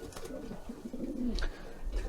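Indigo checker pigeon cooing in a loft, low soft throaty coos repeating close by over faint background noise.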